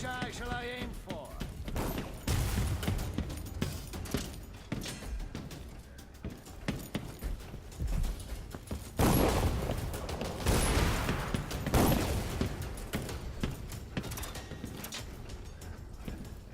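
Gunfire and combat in the stealth action game Dishonored 2, with sharp bursts and crashing impacts scattered among mechanical clanks and clattering, loudest in a cluster midway through, while people talk throughout.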